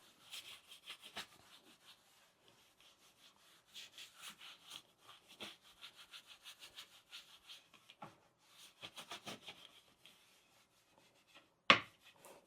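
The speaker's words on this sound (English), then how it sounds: "Just apply a little bit to the board itself. Sometimes do that. Rub this in." A hand rubs oil into a one-piece wooden cutting board, giving soft, faint, irregular rubbing and swishing strokes with a few brief pauses, ending in one sharp clink near the end.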